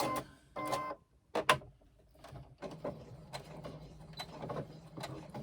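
A sewing machine stitches carefully around a fabric lining piece. Short mechanical whirring bursts start and stop, then settle into a quieter, steadier run, fairly faint and close, with no talking.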